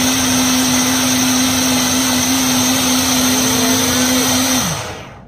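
A countertop blender whirs loudly and steadily, blending eggs, cheese and yogurt for keto mini frittatas, with a constant high motor whine that holds for several seconds before spinning down and fading at the end.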